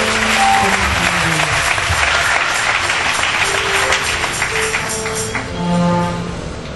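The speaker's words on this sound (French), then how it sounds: "Sur vos acclamations, s'il vous plaît." A church congregation gives a loud, sustained round of applause and cheers as a pastor is invited to the pulpit, with a few tonal voices and shouts mixed into the clapping.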